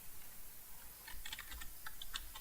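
Quiet, close typing on a computer keyboard, a burst of rapid light key clicks in an irregular rhythm after a near-silent start.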